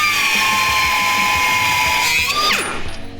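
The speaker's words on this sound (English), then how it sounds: "This Harbor Freight long barrel die grinder from Chief is freaking awesome" Harbor Freight Chief long barrel die grinder cutting off a steel bracket on a Chevy truck, a loud steady high-pitched whine that drops sharply in pitch as the tool spins down near the end.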